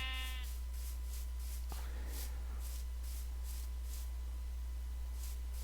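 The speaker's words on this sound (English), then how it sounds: "And look, more sheep." A Minecraft sheep gives a short bleat right at the start, a buzzy nasal call over a steady low hum and a faint rhythmic background pulse, followed by quiet game ambience.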